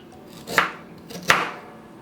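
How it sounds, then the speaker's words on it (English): Fresh ginger chopped into tiny bits with a kitchen knife for a pineapple drink: two sharp, close knife strikes on a cutting board about three-quarters of a second apart, with no talk. "I have to cut this one into tiny bits so I can boil it together with the cut pineapple"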